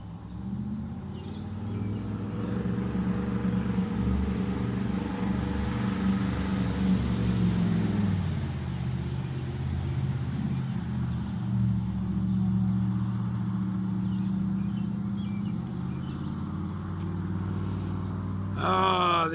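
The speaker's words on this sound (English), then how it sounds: "Ah, the young men in their loud trucks." Loud trucks passing on a road, a steady low engine rumble and droning exhaust that swells and holds near for most of the stretch, then eases off as the vehicles go by.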